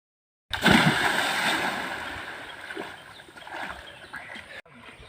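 People swimming and splashing in cold water at a rural outdoor spot, sloshing splashes and gurgling that start loud and close, then ease into lighter intermittent splashing.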